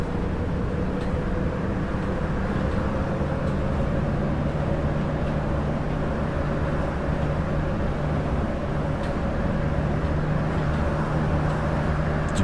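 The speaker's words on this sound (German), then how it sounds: "Ah, der Bus, der schießt los. Was hat denn der für einen Motor?" Steady engine drone from a city bus in the OMSI 2 bus simulator game, a continuous, even hum with tonal engine whine held at a constant level and no talk over it.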